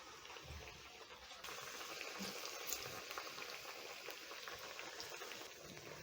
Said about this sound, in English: I'm going to be frying my plantains for about 1 to 2 minutes on each side.